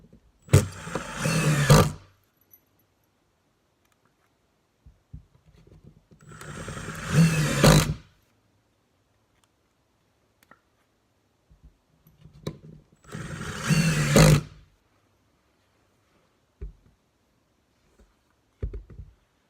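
A Milwaukee Fuel brushless cordless drill running in a speed test, revving up in four short, loud bursts of motor whine separated by silences, with faint clicks between runs.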